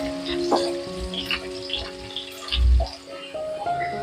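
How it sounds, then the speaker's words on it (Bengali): Potatoes fry in a covered pan over a high gas flame, a soft, rain-like crackling sizzle with small pops and a low thump, close and steady, with no talking. "আলুটাকে ঢাকা দিয়ে 2 মিনিট ভেজে নেব গ্যাসটাকে হাই ফ্লেমে রেখে।"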